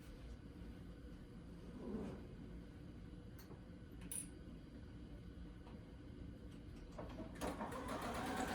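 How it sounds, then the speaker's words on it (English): A sewing machine stitches a seam joining clipped green fabric sections of an upcycled garment, a steady low mechanical whir running throughout, fairly quiet, with no talk. "So now you're just sewing that section that you clipped, right?"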